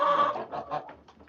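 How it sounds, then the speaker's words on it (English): A brown hen squawks loudly in a chicken coop, letting out a close burst of harsh, repeated squawks that fade into shorter clucks. "the chicken is screaming like crazy"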